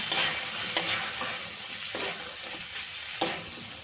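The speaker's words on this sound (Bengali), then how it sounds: "মশলার সাথে এখন সব কিছু ভালো করে মিশিয়ে নেব" Samosa filling being stirred with ground spices in a pan, a spoon scraping in a few distinct strokes over a steady soft sizzle, close by with no talking.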